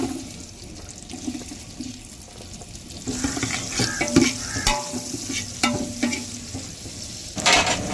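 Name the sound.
onions frying in oil for chicken biryani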